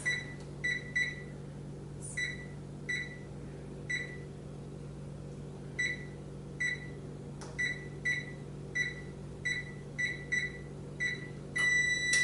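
A kitchen timer emits short, bright electronic beeps in irregular bursts of one to three as buttons are pressed to set it for a fabric dye heat-setting step, over a steady low appliance hum.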